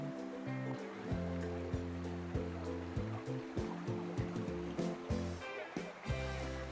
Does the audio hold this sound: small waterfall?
yes